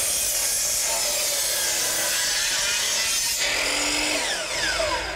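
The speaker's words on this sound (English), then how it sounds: "using the sliding compound miter saw" A sliding compound miter saw slices through wood deck boards, a loud, continuous whining cut that holds steady for several seconds, then shifts pitch as the blade spins down near the end.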